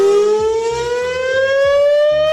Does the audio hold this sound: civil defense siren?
yes